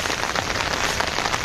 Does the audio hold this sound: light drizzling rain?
yes